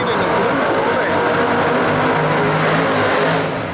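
Drag race cars, a little Mustang and a blue Corvette, roaring loud and continuous at Shady Side Dragway, engine noise filling the whole stretch.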